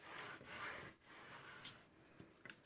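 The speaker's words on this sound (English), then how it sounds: "now I'm going to burnish this" A bone folder rubs over score tape on a mini album, giving faint, soft back-and-forth scraping strokes with a few light taps near the end.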